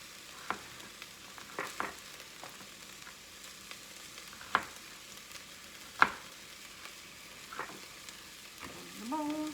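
Sliced beef sizzling steadily in a pan for a beef bourguignon, with occasional sharp knocks and scrapes of a utensil as the meat is stirred, close and alone without talk.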